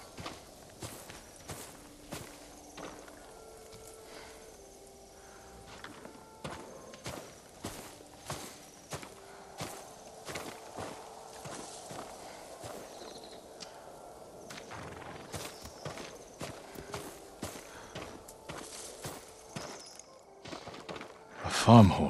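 Horse hooves clip-clop steadily in Ghost of Tsushima, with regular sharp hoofbeats at walking pace, soft in-game music and voices in between, and a louder thump near the end.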